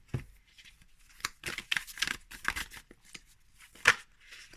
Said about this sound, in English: I'll randomly cut and draw, I guess.